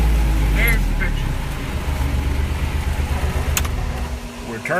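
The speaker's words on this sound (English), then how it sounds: "We're turning off the diesel engine." A vehicle's diesel engine idling, a low steady rumble that runs throughout with a louder burst at the start, while people talk over it.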